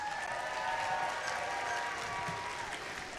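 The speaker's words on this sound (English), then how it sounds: "Please give them a huge round of applause." A crowd at a robotics district event applauds sponsor Qualcomm, a dense, even roar of clapping heard somewhat distant with faint tonal sounds and crowd noise beneath.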